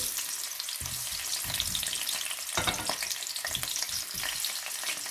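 Potatoes and other vegetables fry in a pan for a vegetable korma while being stirred, a loud continuous sizzle broken by scraping stirs and a few sharp shifts.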